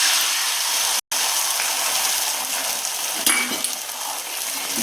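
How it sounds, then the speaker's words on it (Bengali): Beaten egg frying on a hot tawa griddle, a continuous bright hiss and crackle throughout with a brief break near the start and a couple of faint scrapes. "এই ফ্যাটানো ডিমটাকে আমি তাওয়ার উপর দিয়ে দিলাম।"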